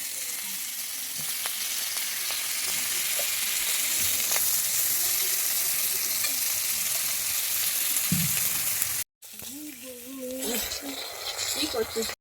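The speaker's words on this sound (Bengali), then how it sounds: "দিয়ে আমি এবারে কড়াইতে ভেজে নিচ্ছি" Rohu fish head, rubbed with salt and turmeric, frying in oil in a wok, giving a steady loud sizzle with faint stirring scrapes, a brief break, then a renewed crackling burst.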